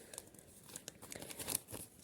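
A paper surprise packet is handled and opened, giving faint, close crinkling and rustling with small irregular crackles.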